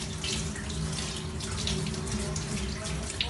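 Tap water runs steadily into a sink while flour dough is washed under it, a continuous close splashing stream with a few small bumps of handling.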